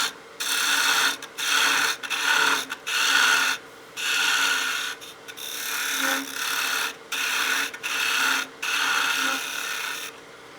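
A gouge cuts a wine glass tenon on a wood lathe, a steady rasping shave broken into repeated passes with brief pauses between them, close and fairly loud.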